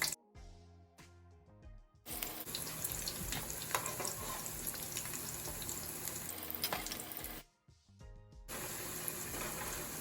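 Spinach and onion pakoras fry in hot oil with a steady, loud sizzle. Brief quieter gaps come at the start and near the end, with a little stirring, and no one speaks.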